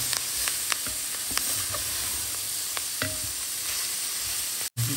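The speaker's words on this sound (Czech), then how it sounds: "zase musíme počkat, až tady ta cibule opeče s tou zeleninou" Chopped onion frying with vegetables in a pan, a steady close sizzle with occasional crackles and stirring scrapes throughout, no talking.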